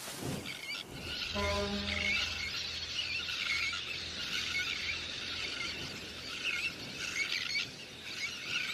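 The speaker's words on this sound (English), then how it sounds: "Little terns will quickly fly back to their eggs and can miraculously find their own nest scrapes in the crowded colony" A little tern breeding colony calls continuously, with many shrill, overlapping squeals and chirps at moderate volume, and a brief low tonal hum near the start.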